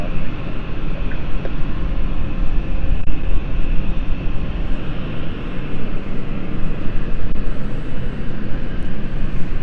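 Steady broadband jet engine roar from an airliner at London City Airport, continuous and fairly loud without much change, heard from a spotting position near the runway.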